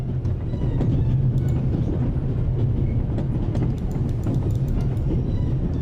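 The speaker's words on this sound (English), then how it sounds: "I need to stop the train" A moving train in the video game The Raven: Legacy of a Master Thief rolls on with a steady, loud rumble and faint rhythmic clicks of wheels over the rails.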